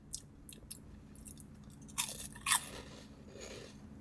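Crunchy Taco Bell snack with a crispy churro-like texture being chewed up close, several sharp crisp bites and crunches spaced over a few seconds against a quiet background.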